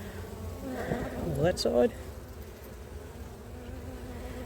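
Honey bees hum steadily through a hive inspection of a brood-filled frame built on a foundationless frame, a close, continuous buzz with a person talking over it.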